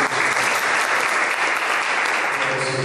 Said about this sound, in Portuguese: Então, as palmas vão para o nome